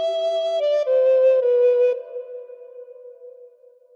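A short phrase of the Star Spangled Banner on a recorder, several clean descending notes played one after another, with the last note held and slowly fading.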